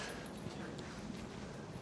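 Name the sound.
dog whimpering and yipping at a nature reserve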